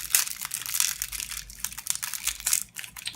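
Two layers of Hi-Chew candy plastic wrapper packaging being torn and unwrapped by hand, a continuous close crinkling and crackling with sharper crunchy bursts, no talking.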